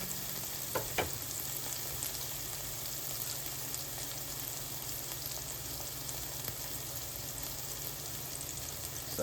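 Onions sizzle in a pan before mushrooms go in, a steady moderate frying hiss with a few soft clinks from stirring and no speech.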